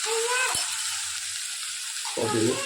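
Cabbage dropped into a pan of vegetables frying with crushed green garlic, green turmeric and green chillies: a sharp sizzle and stirring at the start, a quiet pause, then frying flares up again loudly.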